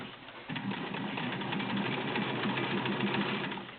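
A White Selectronic Model 804 heavy-duty 1.6 amp sewing machine stitching a two-layer fabric sample; after a brief quiet start it runs with a steady, close, rapid mechanical whirring and needle chatter, no talking.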